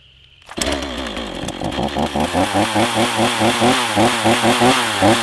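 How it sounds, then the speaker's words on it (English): An old chainsaw starts up and runs loud and close while cutting firewood, its engine revving and bogging in a steady rhythm through the cut with no talking. "fire up the old chainsaw"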